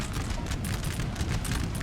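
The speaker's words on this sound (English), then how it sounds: "oh, look at that, French cannons though" Cannon fire from a Napoleon: Total War battle forms a dense, continuous rumble of overlapping blasts and crackling volleys, steady and fairly loud throughout.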